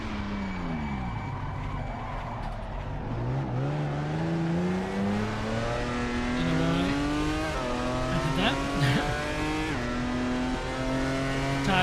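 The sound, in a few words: race car tyres squealing in video game Assetto Corsa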